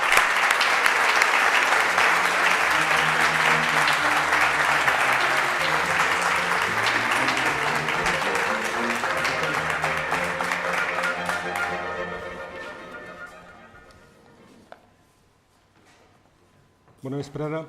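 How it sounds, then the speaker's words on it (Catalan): Strong audience applause at a museum ceremony marking International Museum Day, dense and sustained for about eleven seconds before tapering away, with a few final claps and a brief renewed burst at the end; a sustained tone rings beneath the clapping. "Per favor, un fort aplaudiment"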